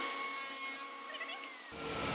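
A hand saw or cutting tool working through a wooden block clamped against a fence, a steady rubbing cut that changes character near the end as a louder, broadband burst takes over.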